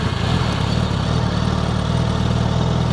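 A warm 2025 Suzuki GSX-S1000GX sport-tourer motorcycle idles low and steady, its engine a smooth, continuous rumble heard up close with no talk.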